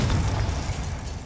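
A Confringo blasting spell in the Hogwarts Legacy game bursts with a short, heavy explosive boom and rumbling crackle, close and loud, with no voices over it.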